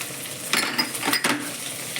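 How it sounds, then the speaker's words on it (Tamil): Capsicum goes into a pan of onions that are already sautéing, giving a soft steady sizzle with a couple of brief stirring scrapes and clinks, quiet and close, with no talking. "வெங்காயம் கொஞ்சம் வதங்கினோடனே இது குடமிளகா போட்டுடுறேன்."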